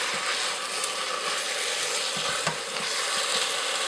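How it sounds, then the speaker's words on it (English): Chopped garlic sizzles steadily in hot oil in a pressure cooker pot, a dense, even frying hiss with faint stirring scrapes, close and continuous with no talk. "give that a little bit of time to fry up that garlic a bit"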